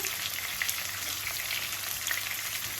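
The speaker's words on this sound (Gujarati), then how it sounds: "આ મેં થોડા લાંબા અને ગોળ એવા લીલા મરચાં લીધા છે, એ આપણે થોડા વઘારમાં નાખી દઈશું." Long green chilies fry in hot oil tempered with sesame seeds, a soft, even crackling sizzle with faint pops throughout and no voices.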